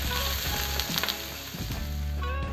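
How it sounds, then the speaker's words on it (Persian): Two finely diced medium onions sizzle and fry steadily in a pan for stuffed eggplant, a dense continuous crackle at even loudness with a brief stir-like shift midway and no voices. "حالا 2 تا پیاز متوسط رو ریز خورد کردم نگینی، میریزمش توی مایتابه، تفتشون میدم تا سبک بشن."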